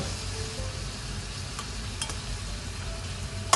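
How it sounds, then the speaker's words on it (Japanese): Steady, soft sizzling of a mirin and sake sauce in a pan, with a few faint clicks of stirring and a sharp tap near the end, no voices. "このタレをさ、しっかり絡めつつ、みりんと酒のアルコールをぶっ飛ばす"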